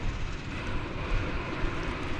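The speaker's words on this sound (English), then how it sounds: "This American Eagle E-Jet arriving from Springfield." American Eagle E-Jet regional airliner arriving at DFW Airport, a steady broadband jet engine roar at moderate distance, fairly quiet and unbroken, with no talk.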